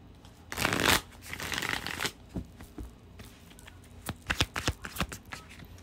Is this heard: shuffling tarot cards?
yes